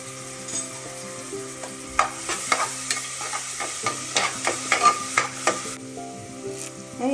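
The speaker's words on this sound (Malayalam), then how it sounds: "ഇനി ഇത് ചൂടായി വരുമ്പോഴേക്ക് ഈ വെളുത്തുള്ളി ഇഞ്ചി നമുക്ക് ഇതിലേക്ക് ഇട്ട് കൊടുക്കാം." Garlic and ginger frying in a hot pan for a Kerala-style pulao, with a continuous sizzle and repeated stirring clinks and scrapes of a spoon against the pan.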